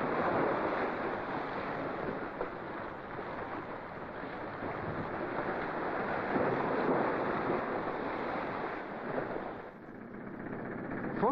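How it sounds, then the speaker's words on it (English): Sea surf rolls steadily along the Danish coastline, a continuous broadband wash of waves with wind noise, loud and close throughout with a brief dip near the end. "along the coastline, you are reminded that the sea is never far away"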